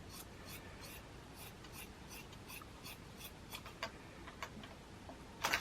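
Scissors trim excess fabric from a small animal cage ramp cover, a series of faint, crisp snipping clicks in a steady rhythm at close range in a quiet room, with a slightly louder cluster of snips at the end.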